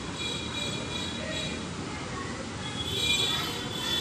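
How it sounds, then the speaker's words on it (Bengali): Heavy rain pours steadily at Krishnanagar railway station, a dense, even wash of noise that holds level throughout and swells slightly near the end. "এই যে স্টেশনে আমরা পৌঁছে গেছি, এটা কৃষ্ণনগর স্টেশন"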